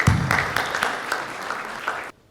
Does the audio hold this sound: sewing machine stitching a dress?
no